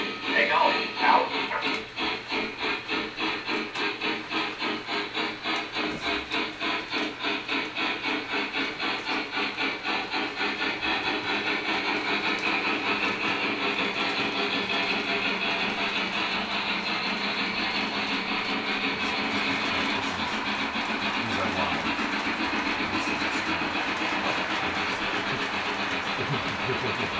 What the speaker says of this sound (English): That is a Lionel L2A New York Central Mohawk that Tim is running.